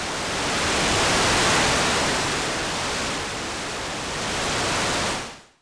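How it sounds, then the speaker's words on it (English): A dense, steady wash of broadband digital noise from a Behringer Wasp Deluxe synthesizer, hissing and grainy, holding level before fading out quickly at the end. "This is quite interesting because it's very digital looking noise."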